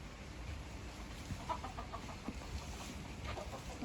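Faint clucking from chickens at a distance on a date farm in Oman, a few short calls over a steady low outdoor rumble.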